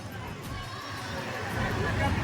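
A dense crowd at a Durga festival food bhandara fills the air with a steady wash of overlapping voices and bustle, moderately loud and unbroken.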